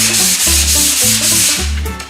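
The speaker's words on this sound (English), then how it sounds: "If you notice, all the sanding that I'm doing" Loud, rhythmic rubbing strokes of sanding where four pieces meet at the corners, steady back-and-forth scraping against a surface with no voices.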